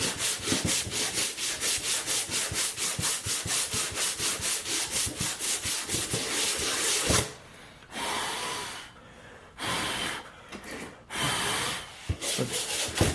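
Hand-textured drywall being sanded down by hand in a workshop, a steady rapid back-and-forth scraping rhythm for about seven seconds, then slower, broken strokes with short pauses, close and fairly loud.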